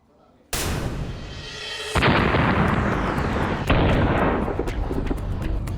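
Missiles strike near a large US military base in Iraq at night, a sudden loud blast followed by a second heavy impact and sustained roaring rumble, with another crack partway through.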